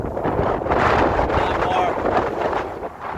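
Strong wind on a hike near Puig de ses Basses toward Sant Elm buffets the microphone in a continuous loud roar, with rumbling gusts throughout and a voice faintly mixed in.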